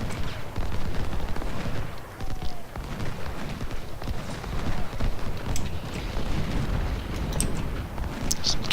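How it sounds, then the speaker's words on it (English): Cannon and musket fire in an Antietam Civil War battle video game, dense and continuous with overlapping booms and crackling volleys, some coming from woods at a distance. "Some cannon fire is coming out of the woods anyway"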